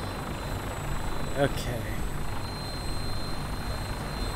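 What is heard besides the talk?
vertibird helicopter flying in video game Fallout 4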